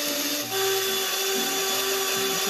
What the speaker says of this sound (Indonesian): Kemudian blender kunyit sampai halus.